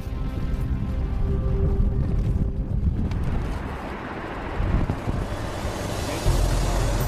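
Strong wind blows across a construction site for the World Trade Center Bahrain towers, a loud continuous buffeting roar with heavy low rumble on the microphone and no voices.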